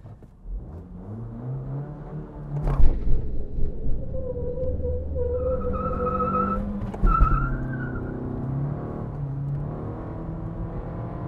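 A Suzuki Swift Sport driven hard through a hairpin on a race track: the engine note drops and rises again as the car brakes and accelerates out, with tyre squeal and sharp bursts, fairly close and with no talk over it.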